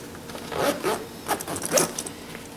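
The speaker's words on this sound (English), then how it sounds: "this zips very easily" Heavy-duty zipper on a Patagonia Black Hole Duffel 60L bag being pulled in a few quick close strokes, rasping bursts with brief gaps between them.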